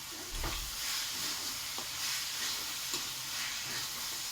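Spinach greens fry in a pan with a steady, close sizzling hiss throughout, broken by a few soft stirring knocks, with no voices.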